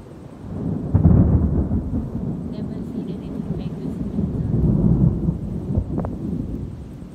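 Thunder rumbling through a nighttime thunderstorm in Tempe, Arizona, a broad low roar that swells and lingers for several seconds with a sharper crack near the end, loud and continuous.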